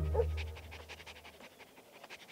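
People imitating dogs panting make rapid, rhythmic breathy huffs in a steady quick series, fairly faint and close, with a brief low vocal sound at the start.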